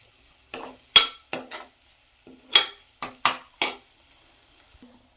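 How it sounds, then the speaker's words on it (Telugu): Turmeric gets stirred into mutton curry in a pan, heard as a string of separate metal spoon scrapes and clinks against the pan, some sharp and some softer, spread irregularly over near silence. "వేసి కలుపుకుందాం."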